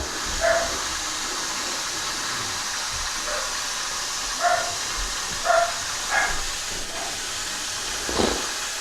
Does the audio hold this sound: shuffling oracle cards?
no